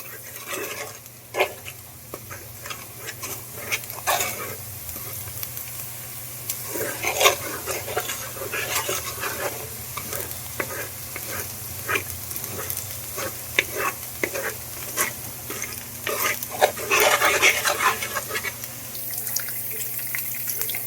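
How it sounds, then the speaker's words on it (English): Rice is stirred into garlic browning in a pan, producing a soft sizzle broken by repeated scraping strokes and clinks of the spoon against the pan at an uneven rhythm. "I add the rice and stir all that together."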